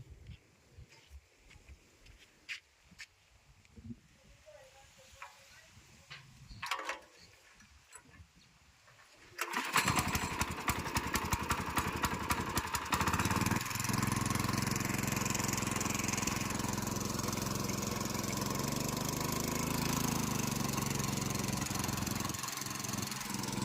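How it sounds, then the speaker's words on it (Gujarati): A power tiller, just fitted with a new throttle wire, is cranked after some quiet handling noises and fires up at once, then settles into a loud, continuous rattling run close by. "ત્યારબાદ આપણે આપણું પાવર ટેલર ચાલુ કરીને ચેક કરશું"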